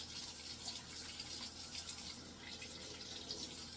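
Tap water runs steadily into a sink while a water bottle straw is rinsed under it, a constant close hiss of flowing water with no talk.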